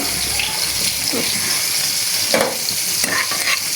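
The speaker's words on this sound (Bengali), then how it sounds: "মূলা দিয়ে রুই মাছ রান্না করার জন্য মাছগুলো আমি টুকরো টুকরো করে কেটে ভেজে নিচ্ছি" Pieces of rohu fish frying in a pan on the stove, giving a constant sizzle with a few stirring scrapes and splutters, fairly close and heard alone.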